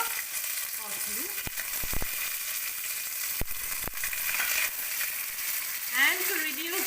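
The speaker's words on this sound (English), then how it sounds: "So I will now try and fry the boiled potatoes a bit" Boiled potatoes fry in hot oil in a pan, giving a continuous close sizzle with scattered crackles and a few sharp utensil taps, and a brief voice near the end.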